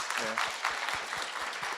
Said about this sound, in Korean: 정책연구팀과 AI 팀에게 다시 한번 박수를 한번 보내주시죠